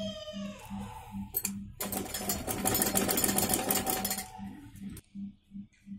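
A sewing machine stitches cloth for a cold-shoulder sleeve with a close, loud whirring run of a few seconds, bracketed by short rhythmic start-and-stop bursts of stitching.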